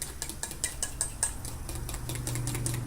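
Cake pop batter being mixed in a bowl, with close, steady scraping and clinking of a utensil against the bowl for a few seconds, no talking.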